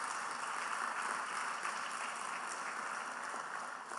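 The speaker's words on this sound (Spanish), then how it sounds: "denle un aplauso fuerte al Señor en esta noche" A congregation applauding at an evening Spanish-language church service, a steady, fairly faint wash of clapping that holds evenly for a few seconds with no voices over it.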